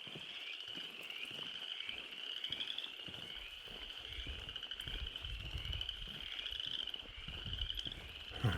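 A dense chorus of frogs croaks and trills continuously, loud and close, at night on the Appalachian Trail in North Carolina, with insects buzzing underneath and no talking.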